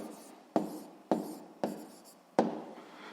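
Four separate scratchy strokes of a pen or pencil writing on paper sound close by in a quiet room, each a sharp onset that fades away, spaced about half a second apart.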